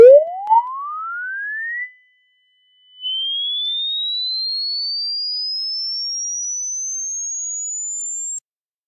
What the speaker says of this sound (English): Our code has zeroed out all the frequencies between 2 kHz and 3 kHz in the output audio file, and all the other frequencies are audible.